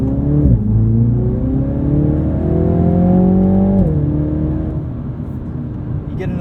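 Exhaust and engine of a 2021 Mini John Cooper Works GP at high RPM, a steady close drone that climbs in pitch, then drops sharply and settles into a lower hum.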